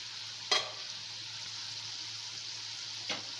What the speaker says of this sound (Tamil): எண்ணெயோட ஓசை மெதுவாக அடங்க ஆரம்பித்த உடனே நம்ம இதை அப்படியே எடுத்துடலாம்